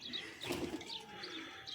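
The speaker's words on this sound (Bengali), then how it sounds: "এটা মাদি কবুতর।" A female pigeon coos softly up close in a short run of throaty calls mixed with faint chirps and a brief rustle. No voices are heard.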